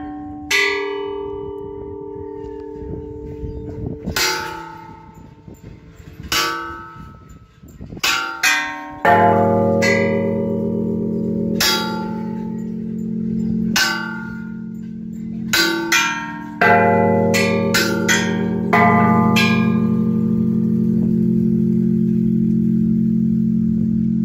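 Church bells tolled in a special pattern, a series of loud ringing strikes with long resonant decay, some struck in quick clusters and others spaced apart, with a faint engine hum beneath.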